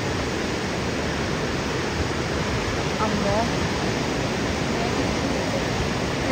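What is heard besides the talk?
water flowing at Niagara Falls, White Water Walk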